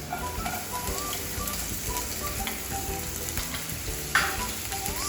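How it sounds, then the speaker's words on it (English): Red onions and garlic sauté in a pan with a steady, continuous sizzle and faint scraping and clicking, close and without speech, with one brief sharper sound near the end. "So now my onions are being sauteed."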